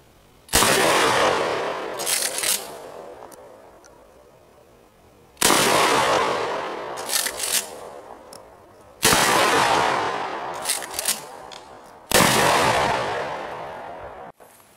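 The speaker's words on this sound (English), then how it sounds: "First two shots are basic double-aught buck." Four loud outdoor blasts from a 12 gauge shotgun firing low recoil 00 buckshot, each a sharp boom with a long rolling echo decaying over several seconds, spaced a few seconds apart.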